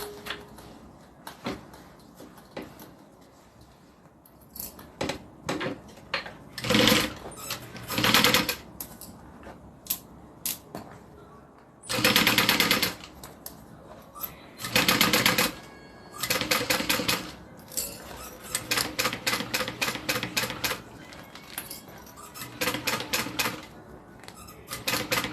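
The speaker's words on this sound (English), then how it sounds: "now I'm just going to sew the zipper to the exterior of the bag" A sewing machine stitches a zipper onto the exterior of a bag in repeated runs, rapid mechanical rattling bursts of a few seconds each, separated by pauses and quieter handling sounds.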